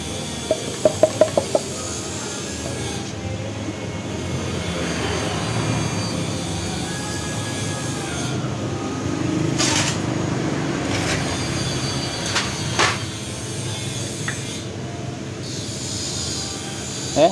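A Honda Vario 125 scooter engine, with oil mixed with radiator water, idles steadily and loudly nearby after a few sharp clicks at the start, its rough drone holding with occasional revs and rattles.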